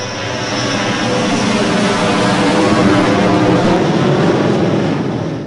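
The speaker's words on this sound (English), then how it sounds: "The helicopter comes in, you're fighting the helicopter, which is awesome." A helicopter in the Half-Life video game roars steadily overhead, a loud, continuous rotor and engine drone that swells slightly in the middle and holds throughout with no voices.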